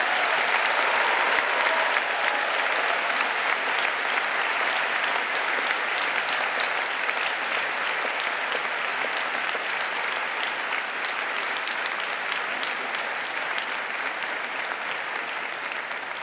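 Sustained applause from a large audience at a university graduation ceremony for Faculty of Natural Sciences graduates, a dense, steady wash of clapping that holds for the whole stretch and eases slightly toward the end.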